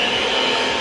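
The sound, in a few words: blender mixing paleo cupcake batter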